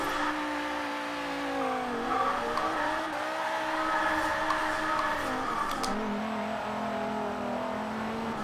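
A Dodge Viper ACR tuned past 1000 hp drifts in Forza Horizon 3, its loud engine revving and sliding with tire squeal throughout, close and continuous, with the engine note dipping and rising as it slides.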